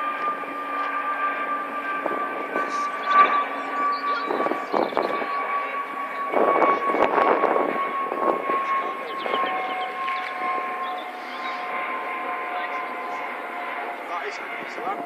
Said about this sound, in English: That is an Airbus.